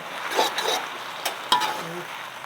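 Bolete mushrooms are stir-fried with holy basil in a pan over a soft sizzle, with a few close scrapes and clinks of a spatula against the metal.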